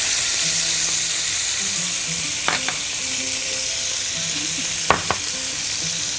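Garlic and sun-dried tomatoes fry in a pan with a loud, steady sizzle, and a few sharp clinks of a utensil against the pan sound without any talking.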